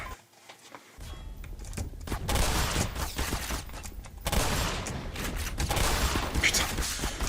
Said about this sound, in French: j'ai tiré toutes les balles à côté